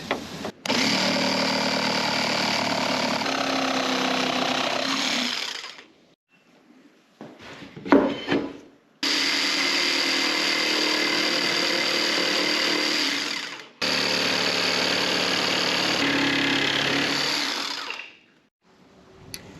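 A power saw cuts sheets of plywood for a set of modular truck-bed drawers, running in three long, loud, steady bursts with brief pauses and a short clatter of handling between the first and second cuts.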